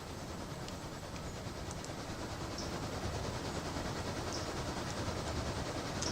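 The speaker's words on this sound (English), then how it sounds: "I hear a steam engine coming." A steam locomotive rumbles closer in the railroad simulation game Railroader, a continuous low mechanical roar with faint rhythmic clatter and occasional soft hisses, building slightly in loudness.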